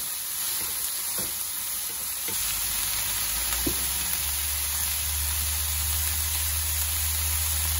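Cauliflower curry stirred and fried in a pan, a few spoon scrapes early, then a steady hiss of sizzling that grows fuller and louder toward the end.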